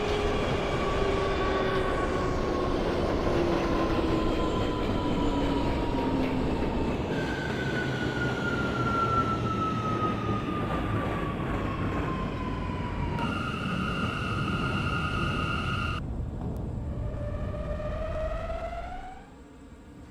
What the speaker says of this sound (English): This is a Brooklyn-bound J local train.